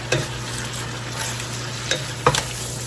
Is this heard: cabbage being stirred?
yes